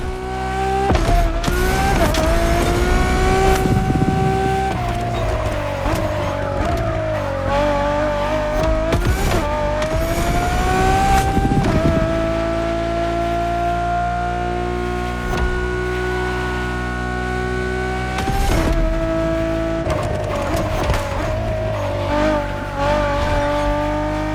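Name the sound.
Ferrari Enzo engine in The Crew Motorfest video game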